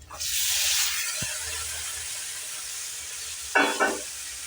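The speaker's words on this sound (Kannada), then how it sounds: "ಈಗ ಟಮಾಟಿ ಕಟ್ ಮಾಡ್ಕೊಂಡಿರ್ತೀವಲ್ಲ ರೀ ಇದ್ರೊಳಗೆ ಹಾಕೋಣ" Chopped tomatoes hitting a hot pan for a tomato curry with chapati: a loud, steady sizzle and hiss that fades a little, then a brief stirring scrape near the end.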